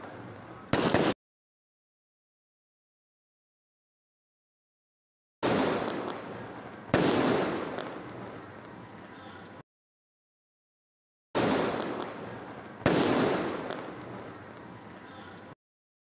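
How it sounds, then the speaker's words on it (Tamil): Garlic firecrackers thrown and bursting during Diwali, several sharp pops in separate pairs with silent gaps between them, each burst followed by a longer crackling, hissing tail. "இந்த பூண்டு பட்டாசு சூப்பரா வெடிக்குது"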